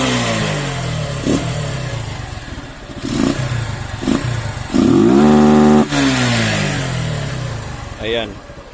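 Keeway CR152 motorcycle fitted with a programmable CDI, engine blipped several times then held against the rev limiter for about a second with a stuttering buzz, before dropping back to a loud close idle; a voice speaks briefly.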